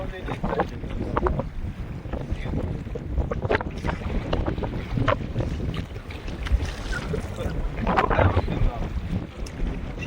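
Wind blows hard over a fishing boat at sea, a gusty rumbling roar buffeting the microphone, with water wash and faint background noise beneath.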